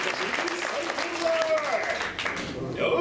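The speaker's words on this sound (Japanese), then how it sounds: "みんな小山瑞希に拍手だ。" Audience applause at the Turtle Talk show at Tokyo DisneySea, brisk clapping from the crowd heard throughout with voices mixed in.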